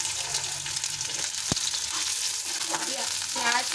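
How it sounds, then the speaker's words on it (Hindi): Onions hit hot oil in a pan for aloo bhindi and fry with a steady, close crackling sizzle. A single sharp knock sounds partway through, and no one speaks. "अब हम इसमें प्याज डालेंगे।"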